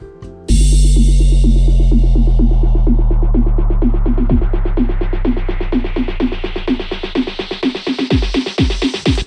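A synthesized EDM subdrop plays on a low G, with its pitch bending downward. It is a loud, deep sustained tone layered with a rapid repeating pulsing pattern that slowly fades toward the end.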